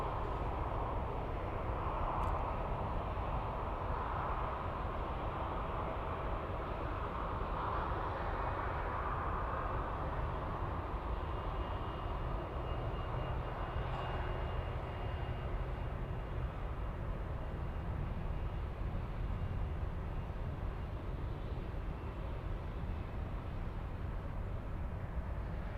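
Airliner taking off from runway 8 left at Munich airport, heard as a steady, loud broadband jet roar that holds through the whole stretch with a slight swell early on and no voices over it.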